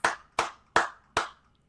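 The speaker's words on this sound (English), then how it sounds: "I'll clap myself." One person claps four times in an even, slightly slow rhythm, each clap sharp and close with a brief decay, and there is no talking around it.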